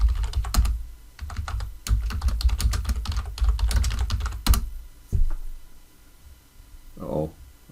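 Someone types a password on a computer keyboard in quick, close bursts of clicking keys. The typing pauses briefly, and a voice speaks near the end.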